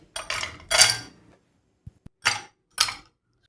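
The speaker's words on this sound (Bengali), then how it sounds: "এবার গ্লাসে বরফ কুচি দিয়ে দিচ্ছি।" Crushed ice dropped into a glass in several separate bursts, each a close, bright clattering rattle of ice pieces, with two tiny clicks between them and short silences.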